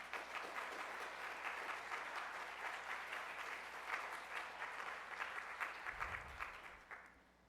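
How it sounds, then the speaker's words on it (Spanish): Audience at a formal judicial presentation event giving sustained applause, an even, dense patter of clapping that tapers off at the end. "Démosle un fuerte aplauso,"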